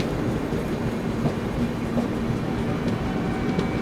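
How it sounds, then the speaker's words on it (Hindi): The Patna–Hazrat Nizamuddin special train, running Kashmir-built coaches near Ghaziabad, rolls steadily along the rails with a continuous rumble and faint wheel clatter, heard from close by without talk. "गाजियाबाद पे दोबारा पकड़ लिया है पटना हज़रत निज़ामुद्दीन स्पेशल को"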